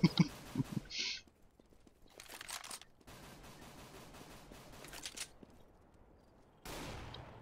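Loud AWP sniper rifle shots from Counter-Strike: Global Offensive crack out in sharp, separate bursts, with quieter gaps between the shots.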